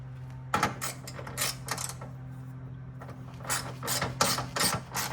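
Ratchet wrench snugging 10 mm bolts on a BMW S55 M3/M4 oil cooler guard: close, rapid bursts of ratcheting clicks in several repeated strokes, with short pauses between them and no talking.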